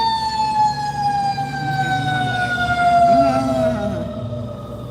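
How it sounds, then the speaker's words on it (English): A fire truck siren sounds continuously and close, pitch sliding downward as it passes, then fading at the end over traffic rumble. "Fire engine is going by."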